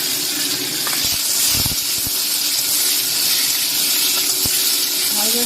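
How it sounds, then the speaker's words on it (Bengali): Chicken liver and stomach fry in mustard oil in a wok, a steady broadband sizzle with a few sharp clinks of a utensil against the pan, close and fairly loud. "মাংসগুলোকে ভেজে নিয়ে করবেন"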